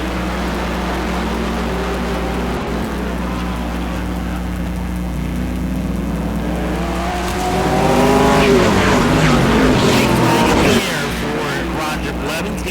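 A-Mod race cars run side by side down the backstretch at Auburndale, their engines a loud sustained roar that surges and swells as they pass, with a race announcer talking over it.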